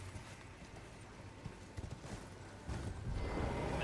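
Horse hooves clip-clop softly over the ground in the Elden Ring video game, an uneven run of faint thuds that swells into a louder, rougher trampling near the end.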